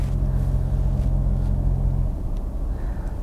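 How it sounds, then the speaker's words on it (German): A Toyota car pulling forward under its automatic parking assist, a steady low engine and road rumble heard from inside, alone and moderately loud throughout, easing slightly near the end. "Bremse treten, Umgebung prüfen, vorwärts fahren"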